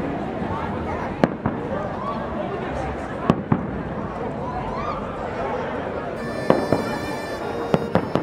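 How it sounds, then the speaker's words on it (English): Fireworks burst near the train station in Salem, Massachusetts, during the Haunted Happenings Halloween festivities, with several sharp bangs and crackles at irregular intervals over a steady murmur of a crowd. "Fireworks near the train station signal that it's almost time to go."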